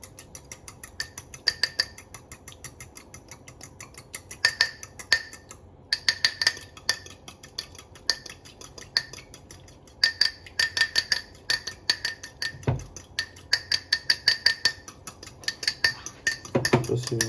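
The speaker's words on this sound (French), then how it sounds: "Je prends une fourchette pour mélanger" A fork clinks and scrapes against a bowl while whisking olive oil into a vinaigrette, giving quick rhythmic bursts of metallic tapping with short pauses between and a louder knock near the end.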